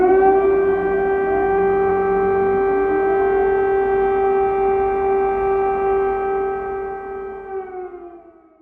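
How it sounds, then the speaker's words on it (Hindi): A civil defence warning siren from an Indian mock drill wails in one long, steady, loud tone with layered harmonics, holding for several seconds before slowly winding down, with no voices. "आप ये समझ गए होंगे कि अब वार्निंग सायरन किस तरीके से काम करता है।"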